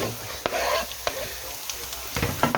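Garlic and shallots frying with mushrooms in a pan give a steady broadband sizzle, with several sharp utensil clicks and scrapes as they are stirred, close and moderately quiet.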